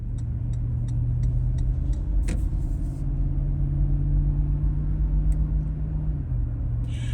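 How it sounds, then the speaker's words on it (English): A 2023 Lexus GX 460 V8 truck cruises on the road, heard from inside as a low, steady engine and road rumble with faint ticking, no talk. "here we are underway in the Lexus GX"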